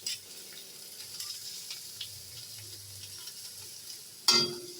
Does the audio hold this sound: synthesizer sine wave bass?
no